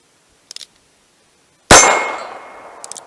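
A .22 Magnum round from a Heritage Barkeep revolver strikes a steel target with one loud, sharp clang that rings and decays over about a second, preceded and followed by faint quick clicks.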